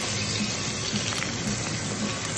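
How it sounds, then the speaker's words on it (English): A dense, steady crackling hiss fills the clip, like food frying in a hot pan, close and continuous with no voices. "That is a sizzle."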